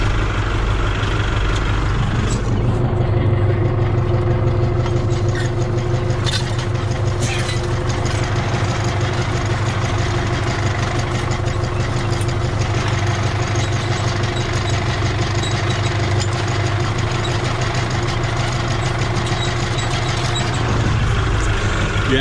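A tractor pulling a plastic mulch layer while laying mulch for zucchini rows runs with a steady, close engine drone that holds loud and unbroken the whole time, with no talking.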